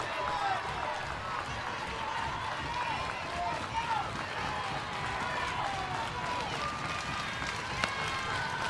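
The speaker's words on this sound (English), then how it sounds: "Tennessee crowd a little stunned by how things have started here in Knoxville, making a little noise now." Home crowd at a Tennessee college softball game against Alabama in Knoxville, a steady distant roar of cheering and noise filling the stands while a commentator talks over it.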